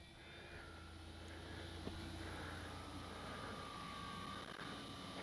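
An Avios Twin Otter twin-engine RC model plane flies a knife edge with differential thrust, its propeller drone a steady, distant hum against a broad outdoor wash that holds even throughout.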